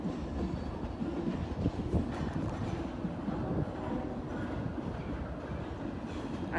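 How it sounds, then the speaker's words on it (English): A freight train rolls past on the tracks in Manchester, Georgia, a steady low rumble with clattering wheels and faint squeals, heard from nearby at moderate level without talk. "There's another one behind that green hopper train."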